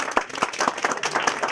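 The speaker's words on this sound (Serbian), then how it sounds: "Pozdravimo ih još jednom aplauzom" Audience applause for a folk dance group from a cultural-artistic society at a village customs festival in western Serbia: a short burst of many hands clapping, fairly close and uneven.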